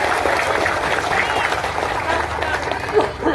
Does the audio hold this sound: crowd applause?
yes